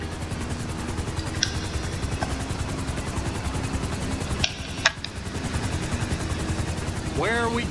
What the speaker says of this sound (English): A helicopter is on its way.